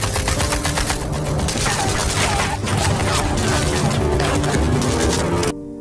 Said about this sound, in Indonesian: Mendengarkan suara tembakan itu, tentara Amerika pun langsung menyerang Peng